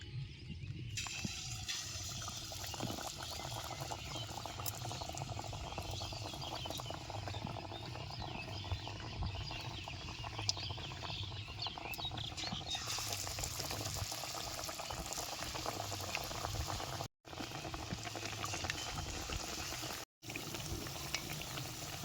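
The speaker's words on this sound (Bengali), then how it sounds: "এটা এখন বেসনের মধ্যে চুবামু আর এবার দিয়ে দেবো সরাসরি গরম তেলের মধ্যে" Besan-battered raw potato slices deep-fry in hot oil for village-style potato chops, giving a steady, dense bubbling hiss throughout, broken by two brief dropouts near the end.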